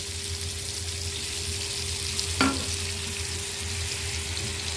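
A Thai basil fish curry fries in a pan as black and dark sauce is added, giving a steady close sizzle with a brief splash as the sauce hits the hot oil.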